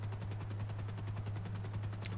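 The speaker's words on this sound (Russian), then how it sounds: "Если б не этот ебаный вертолет на хвосте, я бы уже давно от ментов избавился" Police helicopter in GTA V Online hovering in pursuit: a steady low rotor drone with rhythmic thumping that stays constant and fairly loud throughout, with no talk over it.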